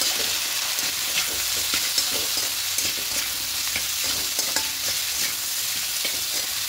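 Katla fish pieces sizzling in hot oil with turmeric and salt as a spatula stirs them, giving a continuous frying hiss with frequent scraping and clinking strokes throughout.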